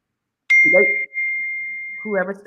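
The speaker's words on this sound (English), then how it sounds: "That's your laptop dinging?" A laptop notification ding rings out once, a clear sustained bell-like tone that slowly fades while people talk over it in a room.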